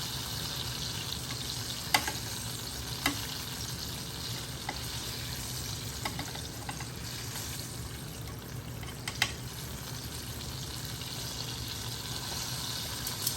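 Eggplant fries cooking in a Power XL air fryer give a steady, even frying hiss with a few faint clicks and ticks scattered over it, moderately loud and continuous, with no talking.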